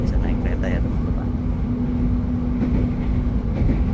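An executive-class passenger train running on rails in Java, Indonesia, heard from inside as a steady loud rumble with faint clacking, while a person talks over it.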